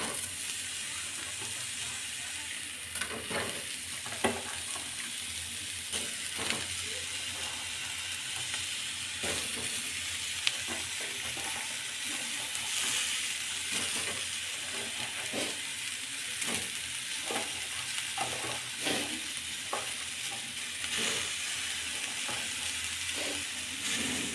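Bitter gourd dropped into a pan of frying onion and green chili sizzles with a steady broadband hiss, punctuated by irregular scraping stirs and clinks throughout, with no voices.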